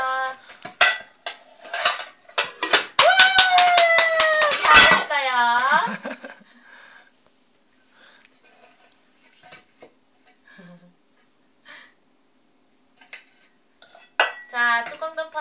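A baby bangs on metal pot lids like a drummer, a burst of loud, rapid, ringing clangs that fades into a few scattered taps, then one last clattering strike near the end, with adults talking and laughing around it.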